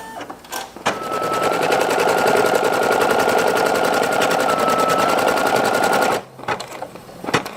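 A single-needle embroidery machine stitches a multicolor patchwork design in a fast, steady, close-up chatter lasting about five seconds, framed by a few clicks and handling noises before and after.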